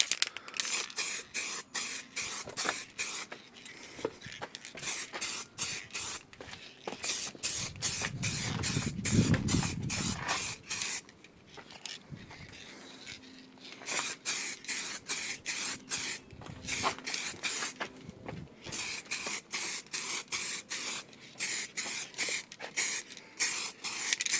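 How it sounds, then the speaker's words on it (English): Clear coat is sprayed from an aerosol can onto painted Toyota Mk2 Supra engine parts and cam covers, heard as many short, close hissing bursts in quick succession, with a lower rumble midway and brief pauses between passes. "Need some clear coat for these, so let's clear coat these first."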